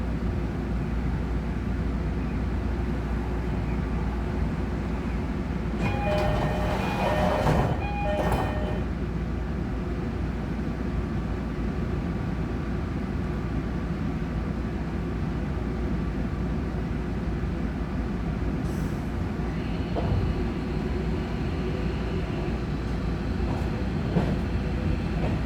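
Interior running sound of a JR Kyushu 305 series rapid train on the Karatsu Line between Nishi-Karatsu and Karatsu, recorded in motor car MoHa 305-6: a steady low rumble throughout, with a brief whine of rising tones near the start.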